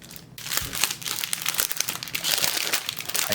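Crinkling of a resealable plastic bag from a diamond painting kit, a busy continuous crackle with sharp crisp bursts, close and fairly loud, no talking.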